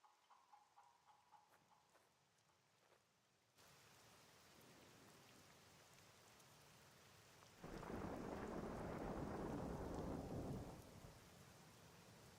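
Rain and thunder in the survival game SCUM: a steady hiss of rainfall that swells into a loud, broad rumbling roll of thunder lasting several seconds before easing back to rain.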